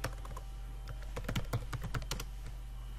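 Fingers type on a computer keyboard in an irregular patter of close, crisp keystrokes with short gaps, with no talking.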